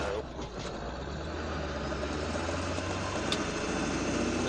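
A Ford 7.3 Powerstroke diesel truck in 2nd gear 4-low hauls 15,900 lbs up a steep driveway, its engine a steady, loud, deep drone that rises slightly and holds for the whole stretch, with no talking.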